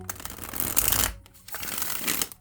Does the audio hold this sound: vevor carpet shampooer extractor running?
no